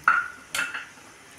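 Dry fruits roasting in a little ghee in a pan, heard as two or three sharp metallic clinks of a spoon against the pan, close and brief, with no talk.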